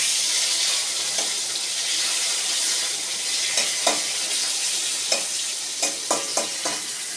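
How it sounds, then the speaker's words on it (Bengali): Pointed gourd (potol) fries in hot oil with a steady, loud sizzle, while occasional light clinks and scrapes of stirring punctuate it, growing more frequent toward the end. "এই তেলে আমি পটলটা দিয়ে নেব আলুগুলো তুলে নেব পটলটা ভাজা হয়ে গেছে"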